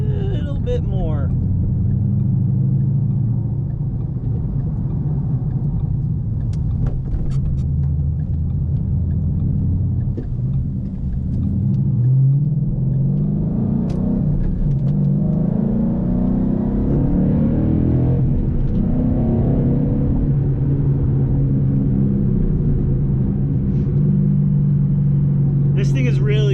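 A Ford Mustang with a manual transmission drives along, its engine rumbling low and steady with rising and falling pitch as it accelerates and shifts, heard from inside the car while someone talks over it.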